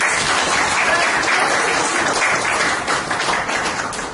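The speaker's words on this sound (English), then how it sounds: "can we have a round of applause to all present here" Dense, steady applause from a gathered audience at a workplace learning launch event, continuous and loud for the full stretch before tapering slightly at the end.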